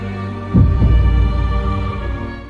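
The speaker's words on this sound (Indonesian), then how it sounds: "Rupanya palu Mjolnir mengeluarkan denyut seperti detak jantung." Thor's hammer Mjolnir emits a heartbeat-like pulsing in an anime battle, a loud deep throb that begins abruptly and swells over a sustained droning hum.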